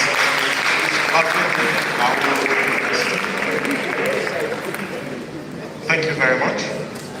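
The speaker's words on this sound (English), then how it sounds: "Please, can you give them a round of applause?" A live event audience applauds in continuous dense clapping, with brief voices emerging over it near the end.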